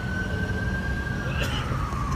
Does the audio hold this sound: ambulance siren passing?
yes